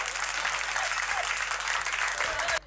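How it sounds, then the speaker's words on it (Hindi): An audience at a Hindi comedy poetry recital claps loudly and steadily, a dense wash of applause from a large crowd that cuts off abruptly near the end. "एक बार तालियां बजा दो जरा जोरदार।"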